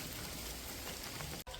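Heavy rain pours down in a steady, dense hiss throughout, broken only by a momentary drop near the end, with no one talking.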